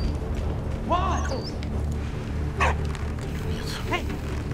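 A dog in the First World War game Valiant Hearts gives three short yelping barks and whines, spaced apart, under steady game ambience with someone talking over it.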